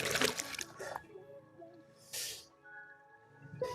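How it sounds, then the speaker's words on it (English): Hands being washed under running water after painting, with splashing and rubbing noises in a couple of close bursts separated by quieter dripping. "Let's wash these hands off."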